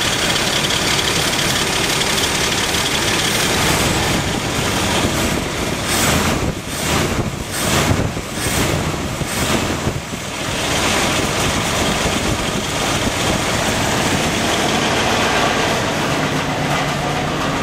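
AMC Eagle engine idling roughly and missing on a cylinder after a bypass fix, with a loud, uneven rumble that runs throughout, mixed with heavy wind buffeting and a brief surging pulse in the middle.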